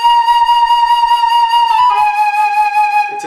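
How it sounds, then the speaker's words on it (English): A sustained flute note with vibrato added too quickly from the outset, giving a fast, tight pulsing; the pitch shifts to a second held note partway through, loud and close with no talking. "I add my vibrato too quickly like this at the outset of the note,"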